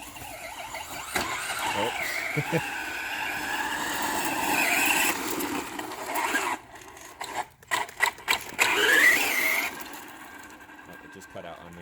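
Ryobi Uproar RC truck whines at high pitch as it drives and tries to jump, its motor rising and falling, then cutting out into sputtering bursts before revving again; a person gives a brief exclamation over it.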